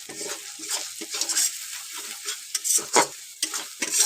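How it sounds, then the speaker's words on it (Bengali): Chilli powder and turmeric paste fries in a pan while being stirred briskly, giving close, repeated scraping strokes over a light sizzle, uneven and loud at moments. "দিয়ে খুব ভালো করে মশলাটাকে কষিয়ে নেবে।"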